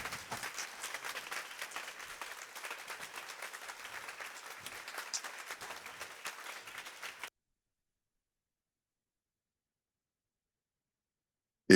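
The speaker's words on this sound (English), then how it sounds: "ask Emma, Anna, and Mario to stand one last time for a round of applause" An audience at an annual public meeting claps steadily for several seconds, a moderate crowd applauding at some distance, then the sound cuts off into silence.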